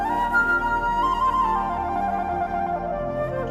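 Smooth jazz cover of a song, with sustained melodic synth or keyboard lines over steady accompaniment, playing continuously at moderate volume with no voices.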